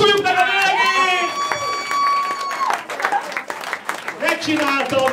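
Wedding guests clapping at a Hungarian bride's dance, steady applause running throughout alongside sung or chanted voices and music tones, fairly loud and close.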